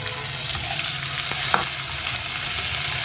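Steady sizzling of tempering spices frying in hot oil for ridge gourd peel chutney, with a few soft clicks and stirring sounds over a constant crackling hiss.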